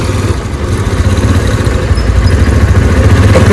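A motorcycle engine idles steadily after a 40-45 minute ride, near Daudkandi bus stand on the road from Chandpur to Dhaka; a continuous low, even rumble stays close and loud throughout.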